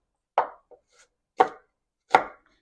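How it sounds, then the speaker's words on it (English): Three sharp knife chops on an onion against a cutting board, spaced about a second apart, close and crisp with silence between strokes. "my favorite way to cut an onion"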